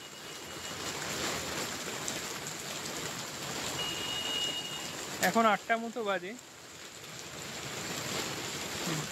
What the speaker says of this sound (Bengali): বৃষ্টিটা বেশ ভালো পড়ছে, গাছের রীতিমতো, বুঝতে পারছি।